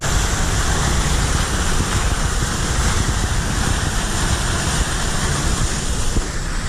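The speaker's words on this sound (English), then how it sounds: "I think the name of this waterfall is Pulanus Falls." Pulanus Falls in the Wicklow Mountains roars as a steady, dense rush of falling water, broad and constant throughout with no talk over it.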